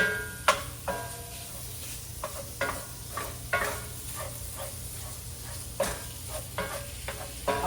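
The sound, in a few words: sausage browning in a skillet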